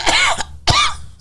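Two sharp, loud coughs sound close by, one after the other with a brief gap, followed by a short raspy tail.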